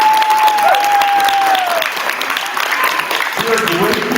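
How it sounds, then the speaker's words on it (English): Clapping from a school band concert audience at Thompson Jr. High for the students' parents, a dense continuous round lasting several seconds with a brief whistle-like tone near the start. "Can we have a wonderful round of applause for your parents?"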